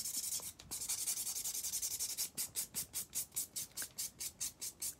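Acrylic nails being filed and shaped make soft, close, rhythmic scratching strokes, first in a continuous rasp and then in quick regular back-and-forth pulses.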